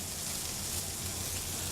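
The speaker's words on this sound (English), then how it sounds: "We have the luxury here at the moment to really take the time to do a full pan sear" Meat being pan seared gives a steady, fairly quiet hiss of sizzling fat, continuous and even from start to finish with no break.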